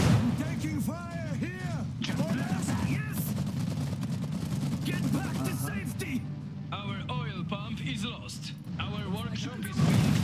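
Gunfire and booming artillery roll on through a multiplayer battle in the war strategy game Iron Harvest, with repeated blasts under constant shouted unit voice lines.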